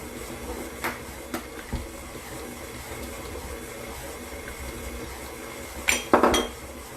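Eggs cracked one by one into a mixing bowl for a Hershey's syrup sheet cake: a few faint separate taps early on, then a louder crack and clatter near the end, in a quiet kitchen with no talking.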